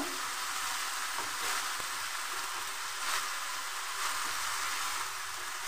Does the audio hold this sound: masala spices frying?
yes